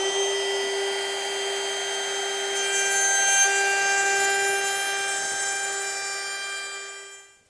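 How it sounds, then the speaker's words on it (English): A router cuts a 1/8 inch round-over on a wooden edge: a loud, close, high motor whine holds steady with cutting noise layered over it, then spins down and fades at the end. "put a little 1/8 inch round over on this to soften this edge"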